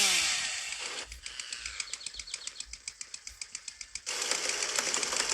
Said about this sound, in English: Give you this chainsaw, which you can cut trees way more easier.